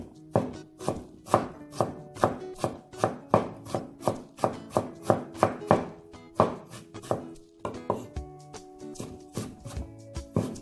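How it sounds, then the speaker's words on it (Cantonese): A knife chops ginger into fine dice on a board, about two dozen crisp, close strokes in a fairly steady rhythm with brief pauses, with no talk over it. "呢個薑切幼粒，咁你都可以磨嘅。"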